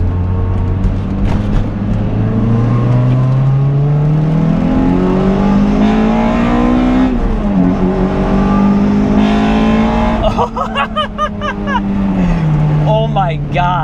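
A 2000 Toyota MR2 Spyder engine revs loudly and close, pitch climbing steadily through a long pull, dipping and rising again, with a steady, dominant roar throughout.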